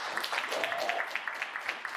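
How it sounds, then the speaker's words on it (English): An audience at a construction estimating lesson applauds, a dense, even patter of many clapping hands at moderate distance, sustained for a couple of seconds without talk. "Let's give Liz a warm round of applause."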